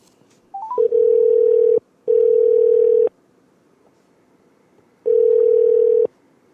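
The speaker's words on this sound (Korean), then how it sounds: "바로 전화 드리겠습니다." Telephone call being placed: a quick rising run of dialing beeps, then three long, steady ringback tones with gaps between them, loud and clear with no talk.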